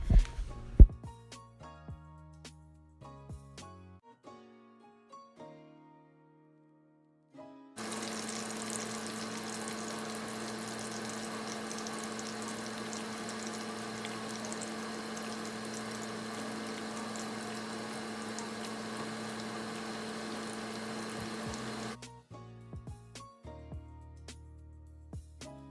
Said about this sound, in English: Just pop them inside the oil and let them sit.